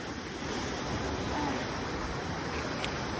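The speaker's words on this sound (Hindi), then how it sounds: "ये देखिए पानी का करंट कुछ ज़्यादा है यहाँ पे" A fast river current rushes through a jungle near Pasighat, making a dense, steady roar of churning water mixed with wind buffeting the microphone, continuous and loud throughout.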